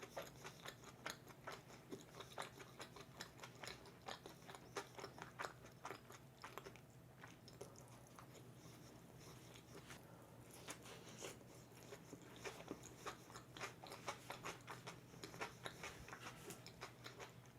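Close, steady chewing and crunching of pizza bread topped with cheese, sausage, onions, ketchup and parsley, with irregular bites and soft mouth sounds continuing throughout and no talking.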